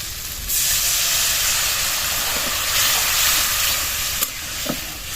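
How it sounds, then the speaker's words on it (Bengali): Water is poured into hot frying masala for fish curry, setting off a sudden loud hiss and steady sizzle that holds, with a couple of sharp utensil taps near the end. "এবারে জল দিয়ে দিচ্ছি।"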